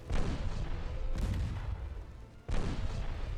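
Naval gunfire from warships in the video game Ultimate Admiral Dreadnoughts comes as heavy booming salvos, one blast opening, another rolling rumble midway and a sharp new volley near the end, with no speech.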